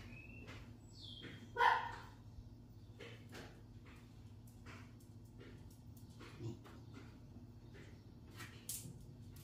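Dogs in a house at about seven in the morning give a short, loud burst of barking, followed by a few fainter yips and barks spread over several seconds, heard over a low steady hum.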